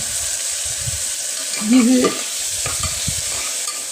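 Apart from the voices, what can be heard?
onion paste sautéing and being stirred in a pan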